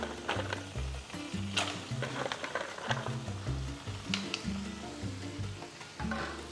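New Zealand mussels cooking in a hot pan, a steady crackling sizzle with stirring scrapes and clatter of shells, close and busy over soft background music, no voices.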